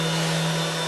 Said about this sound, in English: Right now, the plunge router Steve is using is by Porter.